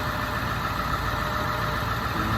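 A steady, droning 7.3-liter Powerstroke turbo diesel engine in a 2001 Ford F-550 service truck idling close by, even and continuous with no changes in pitch.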